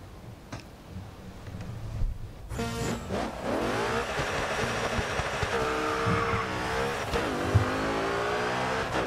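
An Audi RS5 race car in the racing game Grid 2 revs and accelerates, engine pitch climbing and falling through gear changes, with a tire squeal and a steady loud drone.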